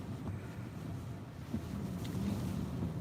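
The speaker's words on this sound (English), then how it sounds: "the wind is picking up" Hurricane Eta winds in the Florida Keys blow hard against the microphone, producing a constant low roaring buffet with slight gusts, no speech over it.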